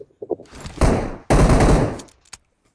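Automatic weapon fire in the PUBG battle royale game erupts in two loud sustained bursts of rapid shots, preceded by a few light clicks and ending in a brief tail.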